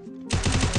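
Rapid automatic gunfire bursts out loud and close in a video game shootout, a fast rattling volley that starts abruptly after a short quieter lead-in.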